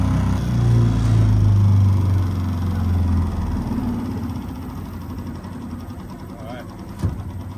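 A jon boat outboard motor idles in neutral while warming up, a steady low rumble that is loudest at first and eases slightly, with a brief knock near the end.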